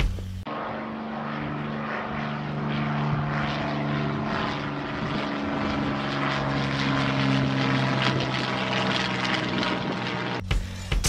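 A steady, droning Ilyushin Il-2 Shturmovik propeller engine roars continuously at close range for several seconds, then cuts off abruptly near the end.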